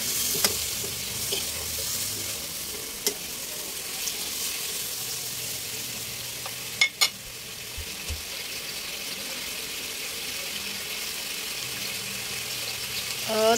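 Pinakbet with crab and turnip pods stirred in a pan, a steady close sizzle with faint scraping of the utensil and a couple of sharp clinks partway through, no talking.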